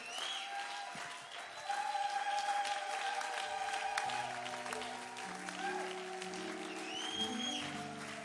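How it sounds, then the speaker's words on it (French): A church congregation applauds continuously and loudly, the clapping swelling after a couple of seconds, while sustained organ or keyboard chords play underneath. "Ça m'étonne par votre façon d'acclamer Dieu."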